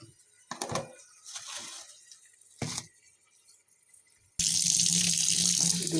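A kitchen tap runs as bay leaves and spices are rinsed for khichuri. A few brief clatters come first, then a sudden, steady, loud gush of water.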